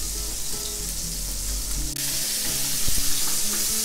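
Fish frying in very hot oil in a frying pan, a loud continuous close sizzle and crackle with a faint clunk partway through.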